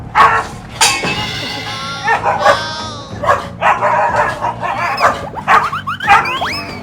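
A dog barks and yips repeatedly in short irregular bursts at an animal rally, some barks high and whimpering, close and fairly loud, with background voices and chatter between them.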